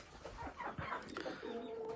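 Chickens and chicks chirp, peep and cluck softly in a backyard coop, with quiet bird calls close by and a faint voice in the background.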